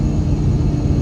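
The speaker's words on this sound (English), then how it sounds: "That was almost full throttle." A supercharged, bagged Ford Mustang S550 GT making about 760 wheel horsepower roars at near full throttle, a loud, continuous, deep engine rumble heard from inside the car.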